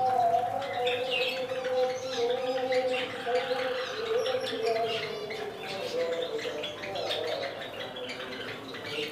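Pet Java sparrows bathe while chirping continuously in short, bright calls over a low, steady hum and soft splashing, at close range.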